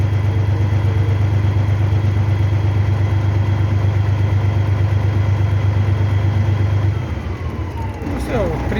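A freshly rebuilt Freightliner truck engine runs with detonation, a loud steady mechanical drone close up that shifts near the end, with some faint talk.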